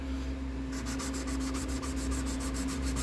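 Wet sanding on a Mandalorian helmet makes steady, rhythmic back-and-forth rubbing strokes, close up, over a constant low electrical hum.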